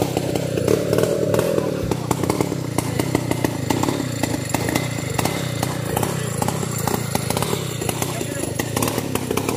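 A chainsaw cuts small pieces of wood in a field, its engine snarling loudly and continuously at close range for the whole stretch, with the pitch wavering as it bites into the wood.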